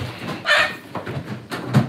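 Chicken clucking around a goat pen while hay feeders and a goat house are being built, a few close clucks rising loudly in the middle with a softer burst near the end.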